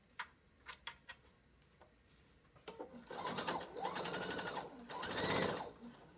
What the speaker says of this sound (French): je vais refaire ma surpiqûre sur le haut